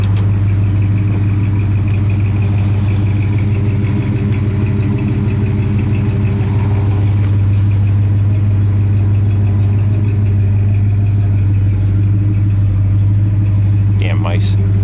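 A 1967 Plymouth Satellite engine on a cold start, idling loud and close with a steady, deep rumble throughout, ending with a brief higher-pitched squeak.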